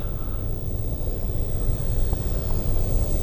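An RC model OV-10 Bronco airplane flying in to land gives a steady, distant engine drone with a low rumble and wind noise, alone with no speech.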